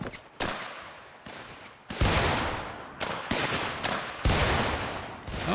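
Musket volleys crack out in Mount & Blade Warband's American Civil War setting: several loud, overlapping gunfire bursts, each with a rolling decay, fired in quick succession.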